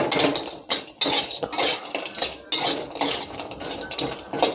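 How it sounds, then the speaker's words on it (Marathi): Whole spices for kala masala dry-roast in a pan, with repeated rattling scrapes of a spatula stirring and tossing them against the metal, close and fairly loud in uneven bursts. "आपल्याला लालसर असं भाजून घ्यायचं आहे।"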